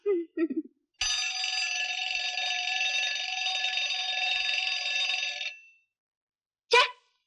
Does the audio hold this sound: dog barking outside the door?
no